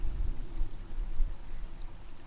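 Creek water flowing near the old Miami Erie Canal, a steady, loud rushing wash with no talk over it.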